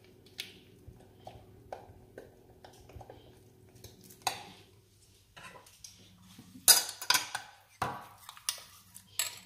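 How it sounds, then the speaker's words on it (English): Whitening powder and lotion being stirred together in a container, with scattered clinks and scrapes of a utensil against the sides that grow louder and more vigorous toward the end. "Now I'm going to mix them together."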